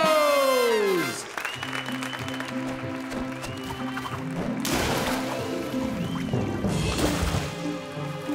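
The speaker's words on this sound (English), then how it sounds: "Let's have a great big round of applause, please, for the Flingos!" A cartoon audience applauds a flamingo synchronized swimming show, clapping bursts rising and falling over splashing water and bright music, after a descending sweep at the start.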